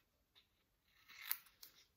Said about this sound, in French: prendre nos ciseaux, là, couper en biais.